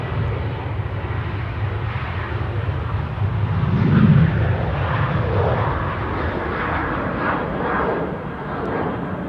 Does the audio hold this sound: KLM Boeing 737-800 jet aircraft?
yes